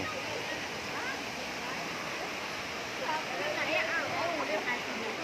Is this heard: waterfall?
yes